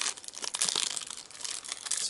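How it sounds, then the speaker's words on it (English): A Pokemon trading card pack has its foil wrapper pulled open by the flap, giving close, crisp crinkling and tearing rustles in quick irregular bursts with no voices. "there's a little flap here that you can use to pull these cards open rather than having to use scissors"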